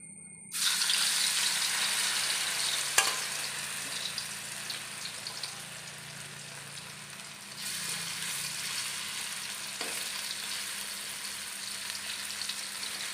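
Yam (chena) pieces dropped into hot oil, a sudden loud sizzle that settles into a steady frying hiss, with a sharp clink near the start and a brief surge midway, close up, with no talking.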